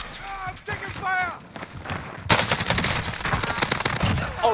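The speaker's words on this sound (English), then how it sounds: "I'm taking fire!" Automatic gunfire rattles rapidly in Call of Duty Cold War Warzone, a dense burst starting midway and continuing to the end, with a voice shouting beforehand.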